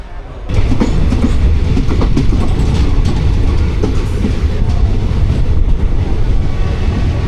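A passenger train runs loud and steady on rails after setting off from Angadipuram on a short journey toward Thrissur, a constant rumble with faint clickety-clack of the wheels and no talking.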